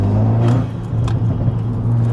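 Tuned 400 bhp VW Polo GTI exhaust giving a low, rumbling idle drone that dips briefly and then returns steady, close and fairly loud, without speech.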